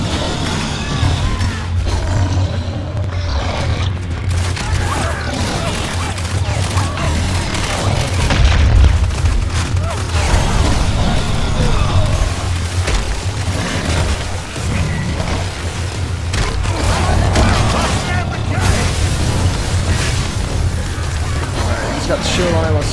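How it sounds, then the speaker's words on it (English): Deep, rumbling explosions from a bombardment in the game Evolve pound continuously and loudly, layered with bursts, pops and gunfire, while a player talks over the chaos. "Stay away from the bombardment."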